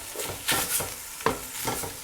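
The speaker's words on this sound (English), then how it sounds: "You wanna kind of saute it in so the heat kind of extracts all the flavor and the coloring" Ginger sautéed in a hot pan, heard up close as soft sizzling with a few quick scraping stirs and a light utensil clink, with no talking.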